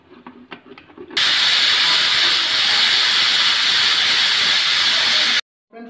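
A pressure cooker holding chicken mandi gives a loud, continuous hiss of escaping steam right after its whistle. The blast lasts about four seconds, then cuts off abruptly. Brief talk comes just before it.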